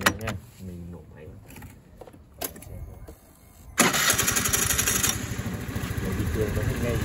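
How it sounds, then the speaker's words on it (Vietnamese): A Honda Today scooter engine is started: quiet handling noises and short clicks, then the engine catches partway through and settles into a loud, steady putter. Talk is heard over the quieter opening. "Mình nổ máy."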